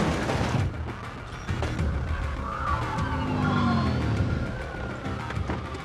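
Car engines roar and tyres screech in a movie car chase, a dense, loud and continuous mix of revving, skidding and action effects with no talking.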